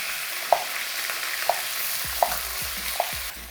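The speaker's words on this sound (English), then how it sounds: "And you want this nicely seared, I take it? That's a good sound, isn't it?" Beef sears in hot oil with a steady, close hiss, punctuated by four evenly spaced sharp taps or pops from utensils against the pan.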